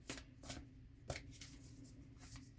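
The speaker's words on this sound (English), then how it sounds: "I'm shuffling too long, so you're looking at nothing right now while I'm shuffling." Oracle cards being shuffled by hand, with several soft riffling bursts and papery slides in an uneven rhythm, quiet and close, with no talk.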